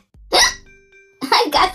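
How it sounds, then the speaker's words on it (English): A person hiccups in short, sharp vocal bursts, with a brief faint tonal chime in the pause between them. "I got the hiccups."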